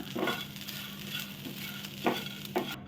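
Grated coconut dry-roasts lightly over low heat in a pan for a Chettinad egg masala gravy, giving a soft steady crackle with a few louder scraping stirs, close and unaccompanied by voices.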